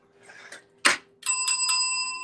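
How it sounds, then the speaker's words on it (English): A small bell rings three times in quick succession after a couple of soft knocks and a sharp thump, its bright tone ringing on and fading slowly, close and loud. "I'm going to ring some bells for you"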